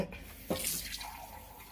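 Water poured into a pan of okra curry seasoned with turmeric and salt while cooking, a brief splashing pour rising sharply then settling into a steady trickle, close and clear with no talk.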